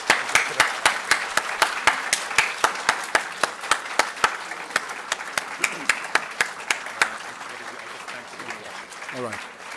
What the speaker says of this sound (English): we can do like a full 30 seconds of applause to get him on here